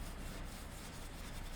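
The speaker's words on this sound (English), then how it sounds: "I'm also kind of brushing the spokes of the rim here as well." A brush scrubs the spokes and barrel of a car wheel rim coated in brake dust and iron remover, a faint, steady, close scratching swish with quick repeated strokes.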